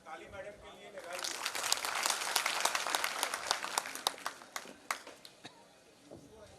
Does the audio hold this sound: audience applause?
yes